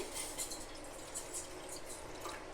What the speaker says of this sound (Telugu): ఒక చిన్న గిన్నె స్టవ్ మీద పెట్టి 1 కప్పు వాటర్ పోసి